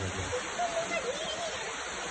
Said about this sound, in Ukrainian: Мега ливень 9 июля затопил Москву.